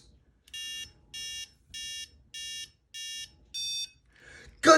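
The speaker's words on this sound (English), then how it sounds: "let's cut it off and make sure we got 6 beeps" Six evenly spaced electronic alarm buzzer beeps sound in steady rhythm during a test of build electronics set at 6 volts, each beep a clear, piercing tone of equal length, followed by a brief rustle.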